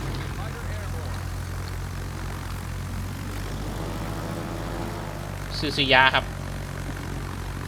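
Aircraft engines from a US aircraft carrier's planes in the naval game World of Warships make a steady droning hum throughout, with a brief sharper burst near the end, under someone speaking Thai.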